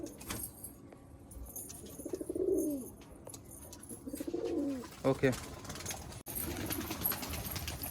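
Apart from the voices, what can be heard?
Malwai pigeons cooing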